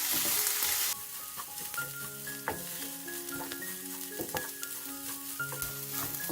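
Rice frying with other ingredients in a pan while being stirred. A soft sizzle is broken by sharp scraping taps from the spoon, all under quiet background music.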